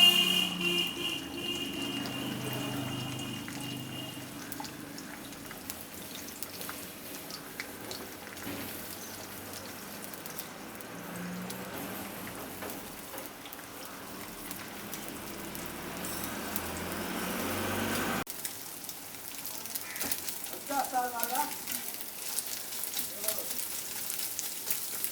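Two beaten eggs with a little salt sizzle steadily in a pan while being scrambled into bhujia, a close, continuous crackling fry with faint scraping of a utensil, the sizzle easing slightly partway through.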